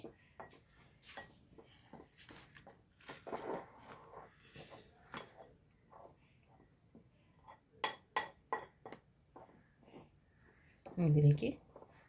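Jackfruit-rind fritter batter being mixed in a bowl: quiet, intermittent clinks and taps of a spoon against the bowl, with a louder stirring burst near the end.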